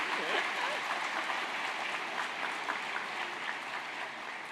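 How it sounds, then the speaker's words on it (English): Graduation ceremony audience applauding in a large hall, a dense, steady wash of many hands clapping at moderate distance throughout without a break. "Let's give them all a round of applause."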